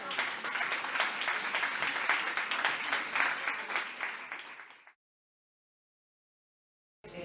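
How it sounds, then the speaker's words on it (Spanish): Audience at the closing session of an international literary congress applauding in a dense, steady burst of clapping for about five seconds, then an abrupt cut to silence before clapping briefly resumes. "Un aplauso para los que no pueden estar."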